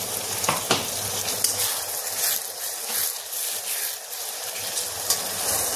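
Ground tomato paste sizzling as it fries with spice paste in oil for Kasturi chicken, a close, steady hiss with a few sharp spoon taps and scrapes against the pan.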